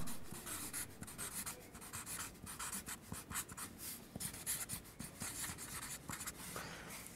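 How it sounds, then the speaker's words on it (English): Sparkle pen scratching and rubbing across a board as a name and number are written, a steady close run of small squeaks and scrapes with no talk. "So I now need to put Hannah's name on the board, do I? Along with the number"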